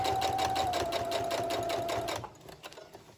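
A sewing machine stitching a scrappy fabric dog leash runs in a steady, rapid, close mechanical chatter with a faint whine, then slows and stops near the end, leaving a few soft clicks.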